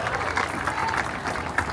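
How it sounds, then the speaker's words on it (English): A crowd near Spruce Street Harbor applauds for the Navy's sailors and Marines at a fireworks event, a brief burst of mixed clapping and cheering, with some voices in the crowd. "So how about a round of applause for all our sailors and Marines out there."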